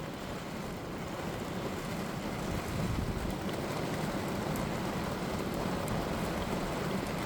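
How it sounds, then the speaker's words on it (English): Steady, dense hiss of rain pouring outdoors, constant and unbroken, with a faint rumble of wind underneath. "It's raining bad out here, y'all."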